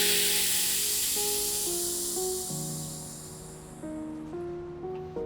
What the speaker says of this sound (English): And we let go the air.